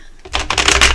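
Tarot cards riffled and shuffled for a December monthly reading, a quick burst of dense papery clicks that starts faint and grows louder over about a second, close to the listener.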